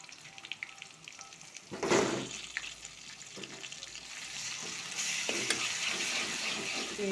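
Onion, green chili, curry leaves, ginger and garlic fry in a pan with a low crackling sizzle, a sudden burst of louder hissing as something is added, then a brighter, fuller sizzle with occasional stirring knocks.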